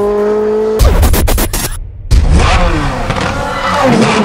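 A Ferrari 430 Scuderia driven hard around a speedway track, loud and close, with a roaring engine note that cuts out briefly midway before surging back with whining, shifting revs.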